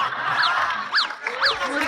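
A person imitates a rooster at a stage acting competition, producing three quick, rising-and-falling crowing squawks in a row, loud and close.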